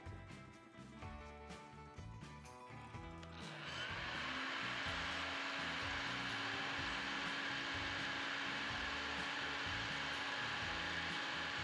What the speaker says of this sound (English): Just gonna use a heat gun instead of a